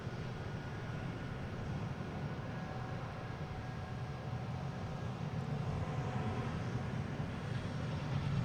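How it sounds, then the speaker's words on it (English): A JetBlue Airbus A320 passing at Boston Logan airport gives a steady, distant roar, a low broadband rumble that holds even and swells slightly toward the end, with no talking. "here's that JetBlue heading to Buffalo. Flight 1115 and A320."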